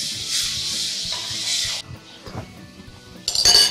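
Food seasoned with salt and black pepper is tossed in a bowl, giving a loud, steady rustling clatter for nearly two seconds. Quieter handling follows, then a burst of bright clinks at the end.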